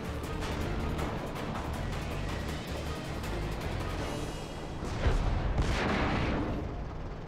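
Tank cannon fire from a T82 tank destroyer in World of Tanks, with heavy booming blasts and rumbling engine noise throughout, loud and dense, swelling with a stronger blast near the end.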